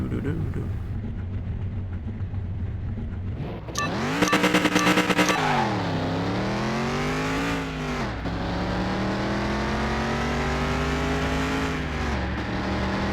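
A fake Viper sports car in Car Mechanic Simulator 2021 roars through repeated revs and gear-shifted accelerations, its engine pitch rising and dropping in long sweeps, loud and continuous with a brief rattling burst early on.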